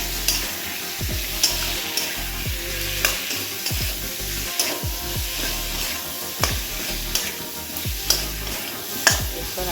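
Spice paste frying in hot oil in a pan for a fish curry. It is stirred with regular scraping strokes, about one every second, over a continuous close sizzle, and no voices can be heard.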